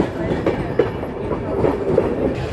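A Simhadri Express passenger train runs on the rails between Rajahmundry and Visakhapatnam, a steady rumbling roar with periodic clickety-clack wheel thumps over rail joints, heard from inside the carriage with no talk.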